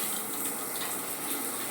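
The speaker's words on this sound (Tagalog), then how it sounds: "At ito po yung shower." Water running from a household shower, a steady and fairly loud rushing hiss that stays even throughout.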